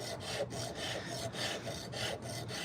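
A high-speed sander works a fork carved from nectarine wood, producing a quiet, rhythmic rasping in repeated back-and-forth strokes of about half a second each.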